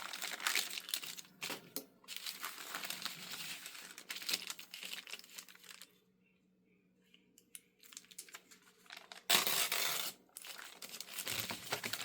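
Newsprint paper is handled and crinkled up close for a junk journal, with bursts of rustling and crackling, a quiet pause in the middle, then a loud crumple near the end.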